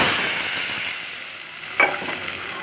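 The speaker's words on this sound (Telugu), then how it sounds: "స్టవ్ ఆఫ్ వేసుకొని పోపు ఇందులో వేసేసుకున్నాం." Hot tempering with asafoetida is poured into a pot of sambar with the stove off, giving a steady close frying sizzle that flares briefly near the end as it is stirred in.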